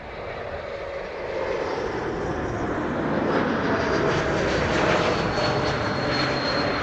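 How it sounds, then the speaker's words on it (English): An airliner passes overhead at Amsterdam Schiphol Airport with a broad engine roar that swells over several seconds and stays loud and close, with no talk. "I can hear another airplane that just now passed me by overhead"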